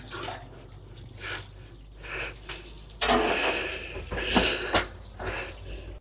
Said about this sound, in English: first I'm gonna just wash some of this mud away